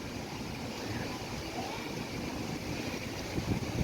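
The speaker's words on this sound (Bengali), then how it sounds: "যেতে পারছে না, এত জোরে হাওয়া হচ্ছে" Strong wind gusts outdoors in Newtown, Kolkata, roaring as a steady broadband rush that swells slightly near the end, with no voices.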